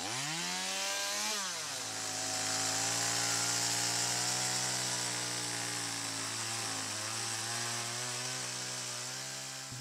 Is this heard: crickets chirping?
no